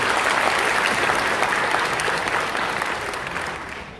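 A large audience at a public talk in Gwangju applauds steadily, a dense, sustained wash of clapping that holds strong and then slowly thins toward the end, with no voices over it.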